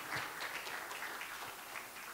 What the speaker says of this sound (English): Can we just give a round of applause to all of our presenters, to Johan, Olfa, Ed, and Thierry?